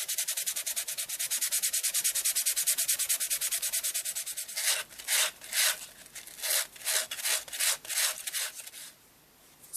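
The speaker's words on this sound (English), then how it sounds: "I'm going to use some really fine graded sandpaper." Fine-grit sandpaper rubbing over air-dry wood clay, first in fast even rasping strokes, then in slower separate back-and-forth scrapes, close and clear, with no talk.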